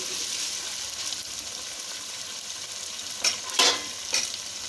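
Chicken pieces fry in a pan for white korma with a steady close sizzle, broken near the end by a few sharper clatters as the pieces are stirred.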